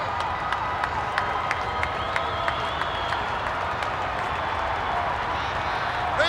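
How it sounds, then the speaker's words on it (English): Capacity wrestling arena crowd cheering and clapping for the Ultimate Warrior, a steady roar with sharp claps throughout, continuous and dense. "This capacity crowd trying to get the adrenaline flowing through the body of the Ultimate Warrior."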